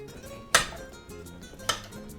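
A kitchen knife cuts carrot sticks into big chunks for a Mexican beef soup, giving two sharp, separate chops against a board, close and fairly loud, with quiet pauses between them.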